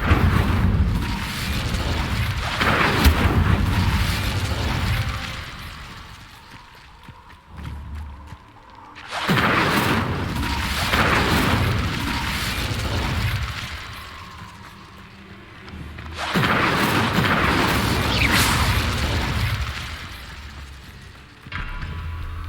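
Fiery blasts of the Incendio spell cast in the video game Hogwarts Legacy, three loud whooshing bursts in an even rhythm, each swelling and fading over several seconds, with no talk over them.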